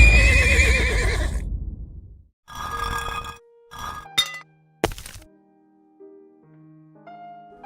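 A horse in a video game neighs loudly in a long whinny, followed by a few shorter snorting, grunting bursts and scattered electronic game tones, heard alone without talk.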